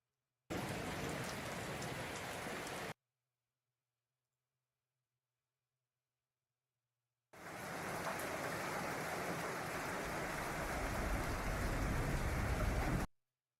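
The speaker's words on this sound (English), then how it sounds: "In a trailer with a tin roof, and the rain's hitting the top of the tin roof." Recorded rain drums steadily on a tin trailer roof, a dense, loud hiss of drops in two bursts separated by several seconds of near silence, with no voices.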